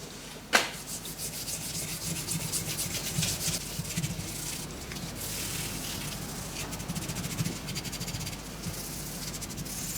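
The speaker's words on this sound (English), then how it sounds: "let's get that buffed up with some steel wool" Steel wool rubs and scrubs against a zinc-plated metal bracket in a continuous close, raspy buffing sound with a sharp click near the start, and no talking.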